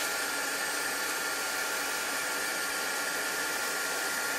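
A heat tool blows a steady, loud, unbroken hiss of hot air while drying chalk transfer ink on a spring flower design, constant throughout with no talking.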